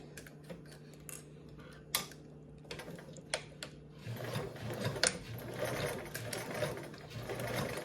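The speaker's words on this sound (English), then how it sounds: "We're going to sew this side with a 3/8 seam allowance, skipping over that marking." A sewing machine stitching a 3/8 inch seam allowance: light clicks and handling at first, then a steady, quiet mechanical whir of continuous stitching close by, with no voices.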